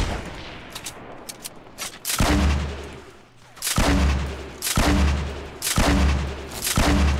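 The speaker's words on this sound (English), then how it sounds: "Oh, I'm getting sniped at, Jeremy." Gunfire in a video game firefight, several loud booming shots with long rumbling tails spaced about a second apart over quieter background noise, with no voices.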